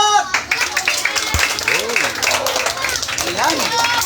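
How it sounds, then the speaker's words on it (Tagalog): Crowd clapping at a birthday gathering for more than a hundred young people, steady applause running throughout with a voice talking over it. "O, isang palakpak pa. Palakpak!"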